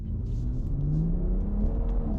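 BMW 440i Gran Coupe, a 2018 LCI model fitted with an M Performance full exhaust system, accelerating hard with a steady, loud engine drone and a rising mid-range note that carries through the whole stretch without any talk.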